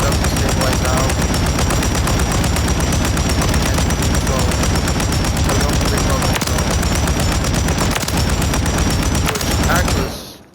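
Loud, continuous automatic gunfire in a video game, a dense rapid stream of shots with recoil control held for about ten seconds before cutting off abruptly.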